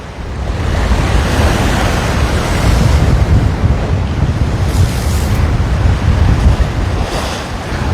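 Strong wind buffets the microphone over steady, loud surf breaking along the Waikiki shore, a continuous roar of waves and gusts with no talking.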